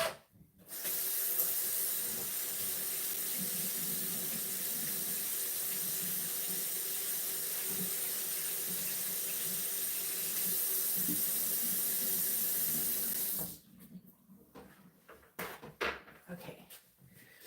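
Tap water runs steadily and loudly into a sink as a paint brush is rinsed, a continuous splashing hiss that stops abruptly, followed by faint handling clatter.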